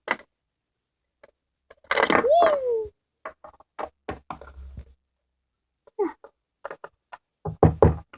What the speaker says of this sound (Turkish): Kapı çalıyor, kapı çalıyor, kapı çalıyor, kapı çalıyor.